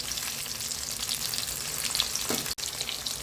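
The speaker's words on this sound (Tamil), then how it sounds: "ஒரு கொத்து கருவேப்பிலை வந்து போட்டுக்கலாம்" A sprig of curry leaves crackles and sizzles in hot oil for okra tamarind curry, a steady dense frying hiss throughout with one brief drop near the end.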